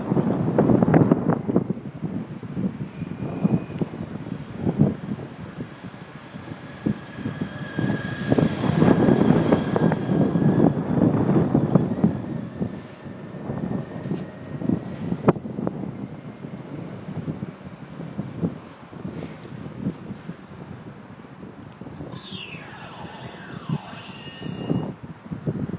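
Wind blows steadily outdoors, buffeting the microphone with continuous loud rumbling gusts that swell and fade throughout, while a faint aircraft drones somewhere in the distance.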